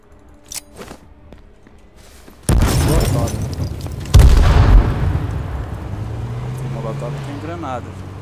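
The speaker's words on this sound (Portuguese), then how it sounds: "Granada." A grenade goes off in the battle royale game H1Z1, one loud boom followed by a second, heavier blast, then a long rumbling decay with scattered game noise around it.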